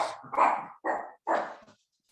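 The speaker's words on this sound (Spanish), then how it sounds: "Hay un perro, perdón, pero..." A dog barks three times close by, each a short loud bark separated by brief pauses, then silence.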